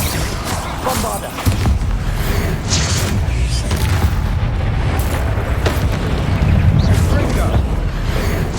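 Bombarda spell explosions in the Hogwarts Legacy video game, repeated heavy booms with sharp crackling bursts over a constant loud low rumble of combat.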